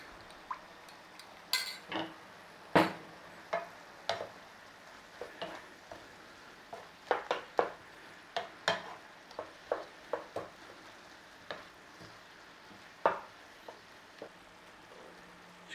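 Onions and beef cooking in a pan: a soft background sizzle under frequent utensil scrapes and clinks against the pan, coming in irregular bursts while the mixture is stirred and turned.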